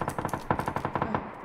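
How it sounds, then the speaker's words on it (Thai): Rapid automatic gunfire from a PUBG match: a steady burst of roughly a dozen sharp, evenly spaced shots over about a second and a half, moderately loud and alone with no voices over it. "โดนหลังยิง"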